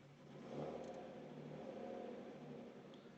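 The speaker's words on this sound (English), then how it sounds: "There's still a little exhaust leak, I don't know if you can hear it" A BMW E36 325i sedan engine idles steadily close by, with a faint puffing, ticking exhaust leak running under the low hum.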